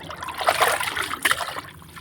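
Rice-washing water pours out in a steady trickle and splash for a homemade liquid plant fertilizer, close and fairly loud for about two seconds, with no talking.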